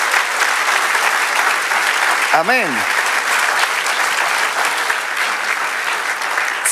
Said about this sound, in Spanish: Si le vamos a dar un aplauso, démosle un aplauso como con buen ánimo.